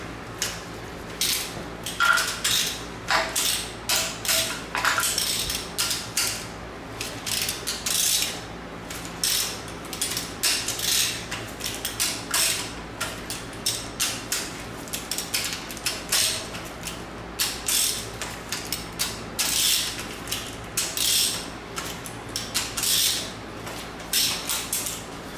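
Hand tools loosen bolts on a BMW M52 engine, with repeated sharp metallic ratcheting clicks in short bursts, close and fairly quiet, over a low background hum.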